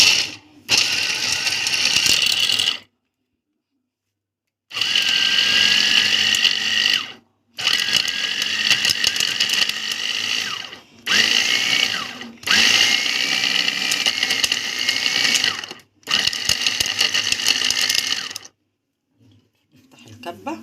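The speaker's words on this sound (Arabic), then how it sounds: "هنحطهم بقى كده وهنشغل بقى الكبه ونفرم" Electric meat mincer grinding in a home kitchen, running in several long, loud whirring stretches broken by short pauses, with a steady mechanical drone throughout.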